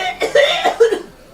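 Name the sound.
woman coughing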